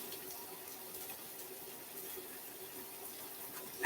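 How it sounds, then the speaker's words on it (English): Fresh garden thyme is rinsed under a running tap outdoors. The water makes a faint, steady splashing rush over a few seconds, with no voices. "I'm just rinsing it off under the pipe."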